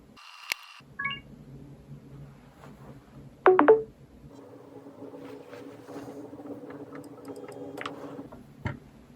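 A Motorola Razr and a OnePlus 8T boot up side by side, giving short startup chimes and electronic beeps, with a brief louder burst in the middle over a faint hum and scattered soft clicks, no talking.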